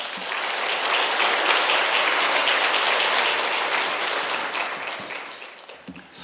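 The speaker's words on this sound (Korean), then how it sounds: "박수로 환영하겠습니다." A church congregation at a Wednesday evening service claps warmly to welcome a pastor, a full, dense burst of applause swelling and then tapering off near the end, with a few isolated claps.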